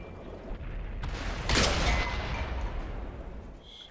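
A tank cannon fires in World of Tanks: one big, loud blast at about a second and a half, with a rumbling tail under a constant low engine drone.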